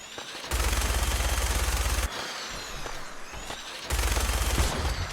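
Minigun fire in the Fallout 4 video game: two loud sustained bursts of rapid automatic gunfire with a quieter stretch of battle noise between them, no talking.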